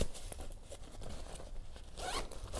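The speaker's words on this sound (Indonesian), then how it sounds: "Ini ada resleting di bagian tengah." A zipper on a hiking backpack is pulled open along the middle pocket, a close, steady rasping drag lasting a couple of seconds with a brighter zip near the end.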